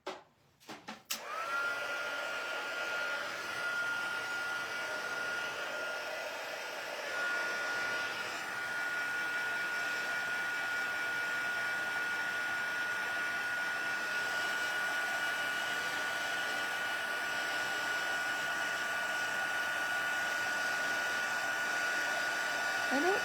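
Heat tool warming a stamped paper craft project, starting with a click and then a steady, loud whirring blower hum with a high whine that holds unchanged for over twenty seconds.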